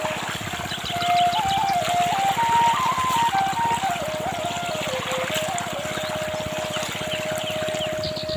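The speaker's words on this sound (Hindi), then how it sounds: "तो ये है पानी का धारा, यहाँ धारा गिर रहा है" Cold water from a deep pipe bored 120 to 140 feet down pours steadily in an open field, a continuous close splashing stream that carries on throughout.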